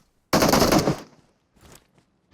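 In the mobile battle-royale game PUBG Mobile, a loud close burst of rapid automatic gunfire rattles for about half a second, followed by faint scattered thuds and clicks.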